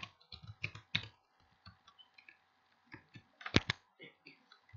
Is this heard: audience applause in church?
no